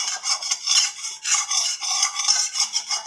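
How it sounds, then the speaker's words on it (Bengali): Cooking oil goes into a hot pan on the stove, giving a bright, hissing sizzle that pulses in short waves with scraping texture, close and fairly loud for about three seconds. "দেওয়ার সময় খুব আওয়াজ হয়, তাই না বলো? তো তেলটা দিয়ে দিয়েছি।"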